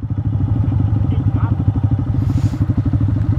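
Motorcycle engine idling on a dirt road, a loud close chugging putter with fast regular pulses, with a brief voice partway through.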